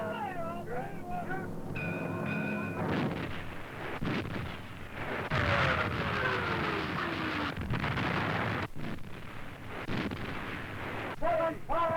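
Naval guns open fire in a wartime sea battle, a series of heavy booms and sharp blasts over rushing wind and rumble, with whistling shell sounds and a shouted voice at the start, recorded on old, noisy film audio.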